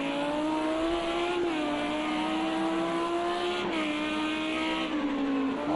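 A race car at Long Beach roars around the street circuit alone, its engine note rising and falling steadily with gear changes through continuous, loud, close-up driving.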